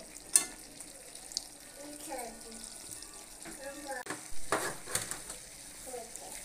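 Mutton is sautéed in a pan with a soft, steady sizzle and occasional stirring clinks, while someone talks over the cooking.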